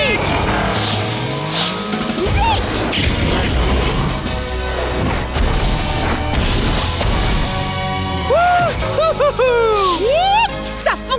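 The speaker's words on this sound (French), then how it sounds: "demandons à Zik de détruire tous les boulets avec son feu" Loud crashes and booming impacts from cannonballs being smashed with fire pile up amid excited shouting and cartoonish sound effects, with swooping whistles near the end.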